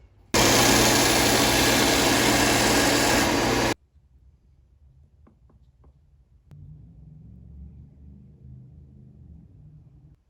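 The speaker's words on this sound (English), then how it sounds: "We'll use the belt sander here and get right up to it." A belt sander works a wooden toy part for a backhoe loader, its loud, steady broadband whir running for about three seconds before cutting off, followed by a few faint clicks and a low hum.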